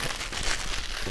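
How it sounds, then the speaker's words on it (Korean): Protective plastic film is peeled off a 3RSYS J740 Quiet PC case with tempered glass panels, giving a continuous close crinkling, rustling hiss. "비닐을 벗기도록 하겠습니다."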